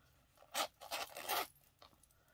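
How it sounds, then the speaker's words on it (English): A zipper on a purse wallet is pulled open in a few quick, close scraping strokes, with a short final zip after a pause, in a quiet room. "It's a zipper style."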